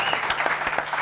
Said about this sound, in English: Big round of applause for our guest this evening, Crumbs.